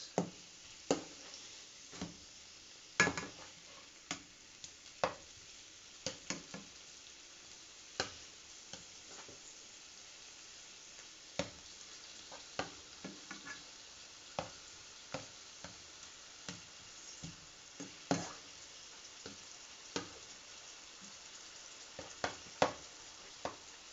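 Onions fry in a pan with a quiet, steady sizzle, broken by sparse sharp taps and clicks of a utensil against the pan.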